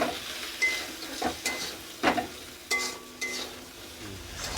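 Pointed gourd pieces fry in oil with turmeric and salt in a wok, giving a soft sizzle broken by several sharp clinks and scrapes of a spatula against the pan.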